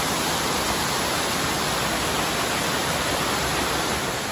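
A mountain waterfall near Almaty roars in a steady, dense wash of loud broadband rushing water that runs unbroken and close throughout, with no voices.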